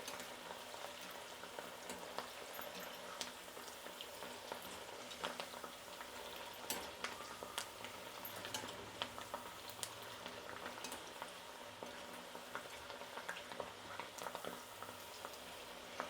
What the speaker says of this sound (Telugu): ఇలా కలుపుతూ వేయించుకోవాలండి